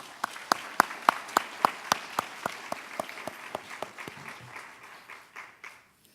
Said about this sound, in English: give me a warm round of applause